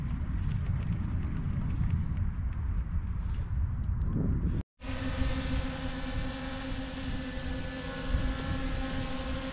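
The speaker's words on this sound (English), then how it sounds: "let's send another bait with the drone" A drone carrying fishing bait out over East Mission Bay in San Diego gives a steady, loud, high whine. It cuts in sharply midway and keeps an even buzzing tone after a noisier, rumbling stretch with no talk.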